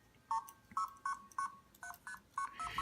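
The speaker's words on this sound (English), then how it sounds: "And the problem with PicBASIC Pro is that the tones sound terrible." Blue box dialing tones from an ATtiny85 circuit beep in a quick run of about eight short, clean two-tone pulses, evenly spaced and fairly faint over a quiet hiss.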